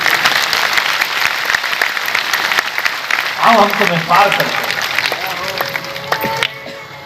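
Crowd clapping in a temple courtyard during a devotional sermon, dense applause running throughout, with a voice speaking briefly over it midway before the clapping thins toward the end.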